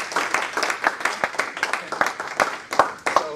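Scattered, moderately sized audience clapping at a university scholars symposium, with distinct individual claps in an uneven rhythm, fairly close, over a few seconds.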